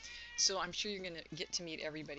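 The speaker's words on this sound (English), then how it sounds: "now the cat's coming in and meowing" A house cat meows a couple of times indoors, the cries mixed under a woman's ongoing speech at close range.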